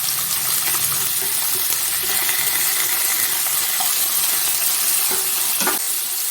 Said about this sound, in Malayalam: ഇനി നമുക്ക് കഴുകി വെച്ചിരിക്കുന്ന പിണ്ടി ഇട്ട് കൊടുക്കാം.